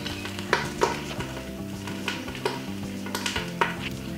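Garlic sautéing on low heat in olive oil and a little butter, with a steady soft sizzle broken by a few sharp clinks of a utensil against the pan, close and with no talking.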